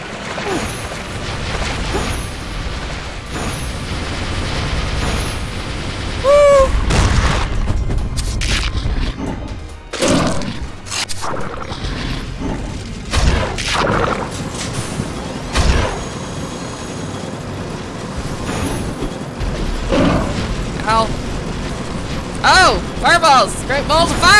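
Fireballs explode in the video game Blood of the Werewolf, loud repeated booming blasts and crashes arriving in irregular bursts over game music, with a player talking and exclaiming throughout.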